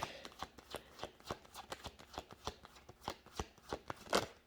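A deck of cards is riffled and shuffled repeatedly, producing quick crisp flutters in a steady rhythm, close up and alone.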